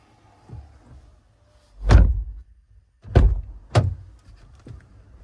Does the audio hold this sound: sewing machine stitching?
no